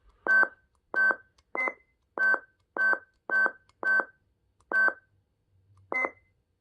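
Beeping tones from a BK MK11 unit signal each step of its color cycle: nine short, evenly spaced electronic beeps, loud and clean in a quiet room.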